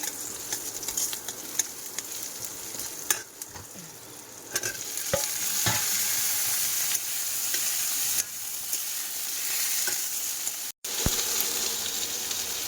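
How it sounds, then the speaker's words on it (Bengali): Okra sautéing in a pan, a steady close sizzle with stirring scrapes and occasional clinks, continuous and fairly even throughout with no talk. "ঢেঁড়স কিন্তু খুব ভালোভাবে কষা করছে"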